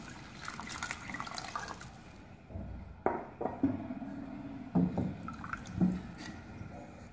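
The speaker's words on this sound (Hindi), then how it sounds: "अब हम इसमें पानी शामिल करेंगे" Water is poured into a pot of potato and egg curry, a soft splashing fill followed by a few gurgles and drips, close and fairly quiet, with no talking.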